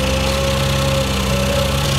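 A hydraulic cutter on a Weedoo aquatic weed harvester boat, raised overhead to trim tree limbs along a tree line, drones with a steady engine hum and mechanical whir, loud and close with no talk.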